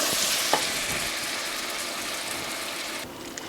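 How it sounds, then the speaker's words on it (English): Ingredients seared in a hot pan for beer cheese soup, a loud close sizzle with a stirring knock early on, easing slightly toward the end. "we're gonna sear these down and then we're gonna hit them with our beer and deglaze them"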